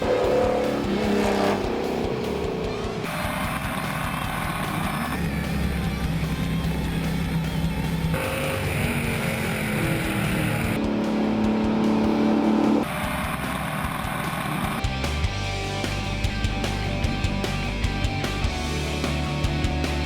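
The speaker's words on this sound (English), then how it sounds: "I need you to bring the car lower in the corners." Race car lapping a track, engine revving and changing pitch through the corners in repeated bursts, loud and near, with brief passes and abrupt cuts between segments.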